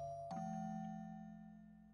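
Shrine bell in the horror video game Shiro no Noroi, a single clear metallic ding struck once and left to ring out with a long, slowly fading resonant tone over a quiet background hum.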